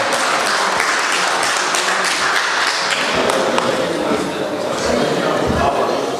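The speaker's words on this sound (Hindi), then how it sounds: "जोरदार तालियों की गूंज" Audience applause fills a mushaira poetry gathering in Sharjah, a dense, sustained wash of clapping lasting several seconds, with voices murmuring through it.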